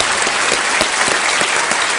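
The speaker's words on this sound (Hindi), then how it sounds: "एक बार जोरदार तालियां हो जाए अभिजीत जी के लिए।" A studio audience at a televised quiz show applauds a guest with dense, sustained clapping that stays loud and even from start to finish, with no voices.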